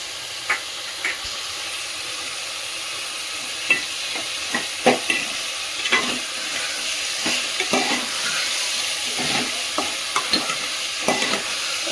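Ginger paste goes into a pan of frying khichuri and is stirred, with a steady close sizzle and repeated scraping strokes of the spoon throughout.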